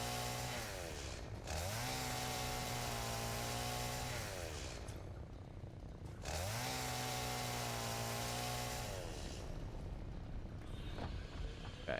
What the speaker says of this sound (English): I'm gonna give you the chainsaw so that you can clear cut some of these bushes